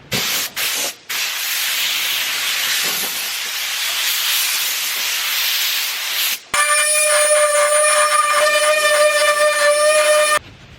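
Compressed air blasts off a freshly sanded Jensen GT car hood, a loud steady hiss after earlier rubbing sanding noise, with a tonal air-tool whine holding for about four seconds before cutting off.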